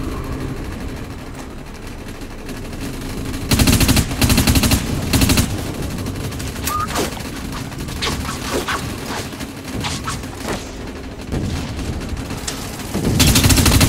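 Automatic gunfire in the video game Dust 514, loud bursts of rapid shots in several volleys with quieter single shots and mechanical clatter between them, no talk.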